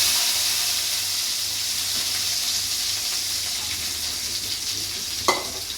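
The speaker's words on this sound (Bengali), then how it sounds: "কাঁঠালের বিচি ভাজবো" Jackfruit seeds sizzle steadily in hot oil with spices, a close, continuous frying hiss with a brief clink or stir near the end.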